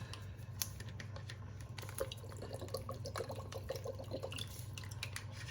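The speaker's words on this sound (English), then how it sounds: "in goes some ketchup, a little tanginess, and some Worcestershire sauce" Ketchup and Worcestershire sauce go into a pot for beer-braised short ribs, heard as soft wet drips and small liquid splats, faint and close over a low steady background hum.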